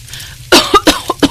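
A woman cooking at a clay stove coughs hard in a quick run of four or five loud, close coughs after a brief quiet moment.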